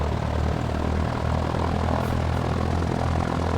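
Steady propeller drone of a taildragger plane's engine in the X-Plane 11 flight simulator, a continuous, even hum with the throttle raised, alone and with no voices.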